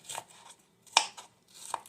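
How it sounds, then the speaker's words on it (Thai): Fridge-cold chili peppers are chopped into small pieces on a board in a kitchen, giving three sharp, close knife taps spaced irregularly over about two seconds, with quiet pauses between. "หั่นไปเล็ก ๆแบบนี้นะคะ"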